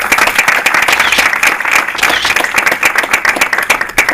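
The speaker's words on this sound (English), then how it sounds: "So let's give them a round of applause." Loud, close round of applause from a conference audience, dense continuous clapping with sharp individual claps throughout.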